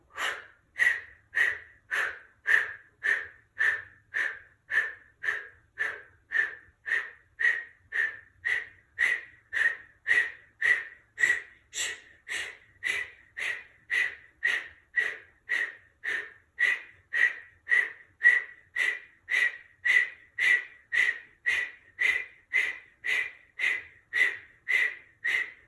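Rhythmic, evenly paced breaths during an ab workout exercise, about thirty-five sharp breathy exhales in steady succession, close and clear with no talking.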